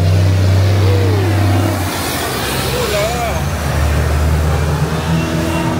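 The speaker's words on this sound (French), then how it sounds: "vous entendez tous ces comment ça s'appelle, tous ces camions là qui passent" Loud traffic on a Santo Domingo street, with trucks and cars passing close by, engines revving and accelerating in a continuous roar, and voices talking over the noise.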